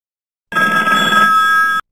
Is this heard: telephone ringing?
yes